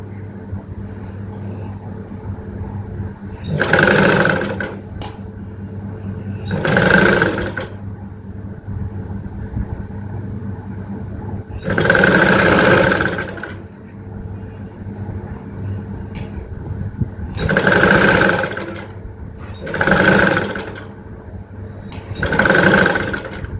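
A household sewing machine stitches a blouse belt in six bursts of rapid whirring, each a few seconds long, separated by quiet pauses with a faint hum.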